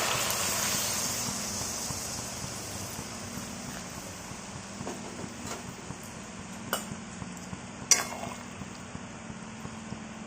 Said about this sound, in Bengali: ভালো করে মশলাটা কষিয়ে নিয়ে আমরা জল দিয়ে দিচ্ছি এর মধ্যে